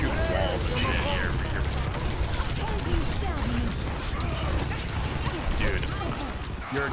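Ramattra firing at walls in Overwatch 2 as dense, continuous rattling gunfire and mechanical clatter, loud and constant, with a voice talking underneath.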